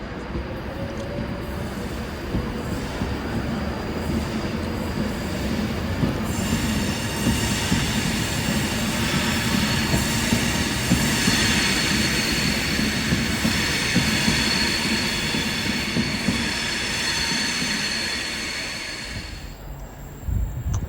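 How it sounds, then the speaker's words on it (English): A Class 390 Pendolino, unit 390045, pulls out of Carlisle bound for London Euston with a loud, continuous rolling rumble and high wheel squeal that swell through the middle and ease off near the end. "Heading out now, we've got 390045. Bound for London Euston."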